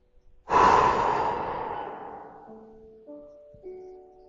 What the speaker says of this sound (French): Inspire profondément pour te dynamiser. Souffle fortement.